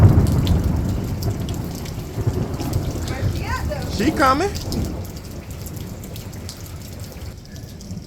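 Steady outdoor rain with distant rumbling thunder during a thunderstorm at a track practice, a broad hiss throughout as people talk nearby over it.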